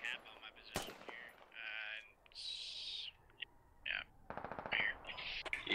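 Gunfire in a Squad shooter game: a sharp shot near the start, then a rapid burst of automatic fire late on, mixed with other game effects and some voice.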